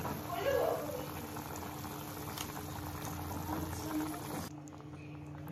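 Palak paneer kofta curry with water just added boils steadily in a pan, giving a continuous bubbling and simmering that stays fairly even throughout and drops a little near the end.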